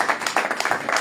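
Church congregation at a Sunday worship service applauding, a dense close burst of many hands clapping together for a brief moment, with no talk over it.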